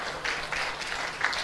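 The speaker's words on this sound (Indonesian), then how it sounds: "Kasih tepuk tangan." A congregation applauds during a talk on family life, giving a short burst of mixed clapping that swells in uneven waves, moderately loud and heard alone without speech.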